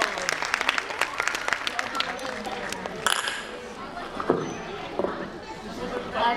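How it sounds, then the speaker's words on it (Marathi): Applause breaks out for a woman receiving a caretaker award at an educational foundation's honours ceremony, a burst of clapping from an indoor audience that fades under a man's speech and crowd chatter. "पुन्हा एकदा जोरदार टाळ्या होऊन जातात आमच्या शोभा मावशींसाठी"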